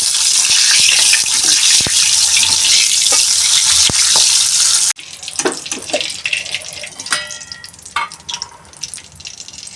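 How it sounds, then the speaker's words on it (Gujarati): Green chillies fried in hot oil for Gujarati puff puri: a loud, steady sizzle that cuts off abruptly, followed by quieter, scattered bubbling and crackling. "આ રીતે મરચાં તળી લેવું."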